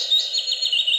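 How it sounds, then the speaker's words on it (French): Small birds chirping as the nature sound of a dawn simulator alarm clock: bright, high twittering calls that repeat quickly and overlap in a steady stream for about a second, fairly close and clear, with no voices. "Petits oiseaux."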